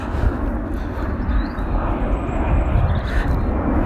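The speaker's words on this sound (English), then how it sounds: "there's a plane hovering above my head" A fixed-wing airplane passing overhead beneath the take-off path near Manchester Airport, a continuous low engine roar that stays loud and steady throughout, with no talk.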